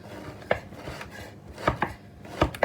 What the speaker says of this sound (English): So I'm just chopping up the apricots.